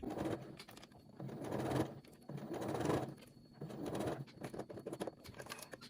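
Domestic sewing machine topstitching around a trouser waistband seam from the right side, fixing the inner waistband to the trousers; steady motor whirring in three long bursts with short pauses between, close and fairly quiet.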